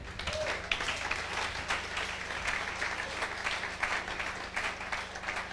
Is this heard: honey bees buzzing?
no